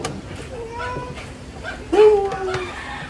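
Several cats at a home meow in short, rising cries, with one louder, closer meow standing out near the middle. People talk softly in the background between the calls.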